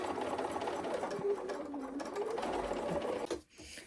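A sewing machine stitches a small quilt wall hanging in a steady, close, continuous run that stops abruptly near the end.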